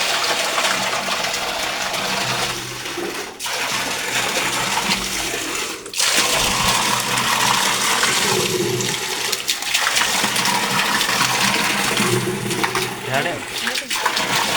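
Water gushes out of a tank being drained in a strong, continuous rush, loud and close, while voices speak over the flow.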